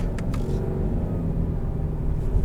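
2021 Subaru Legacy XT accelerating in first gear, a loud, close engine rumble and rising drone heard from inside the car with no talk.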